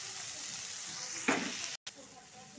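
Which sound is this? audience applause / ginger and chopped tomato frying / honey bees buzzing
ginger and chopped tomato frying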